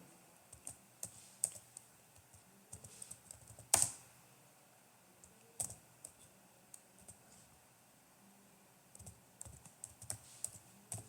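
Quiet computer keyboard typing: irregular bursts of soft key clicks with short pauses, fairly close and alone, plus one louder sharp click or knock about four seconds in.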